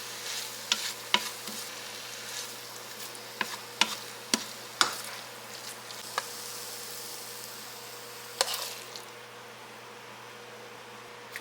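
A spoon stirs a chopped mozzarella and provolone mixture in a pan over a faint, steady sizzle, with about a dozen sharp clicks and scrapes scattered irregularly.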